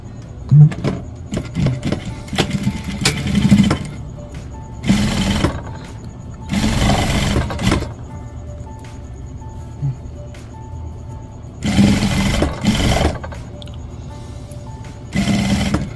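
Sewing machine stitching a cargo pocket onto cargo pants, running in several loud bursts of rapid mechanical whirring separated by pauses, with a voice giving instructions in between.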